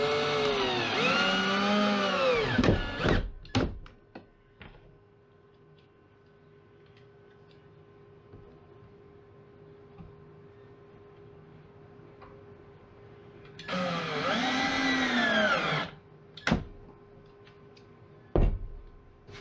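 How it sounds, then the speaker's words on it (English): A power drill drives coarse drywall screws while building the corners of a party bus, giving two loud, close bursts of rising and falling motor whine, with scattered clicks and knocks in the quiet stretch between. "put it where I want it, and shoot a screw in it"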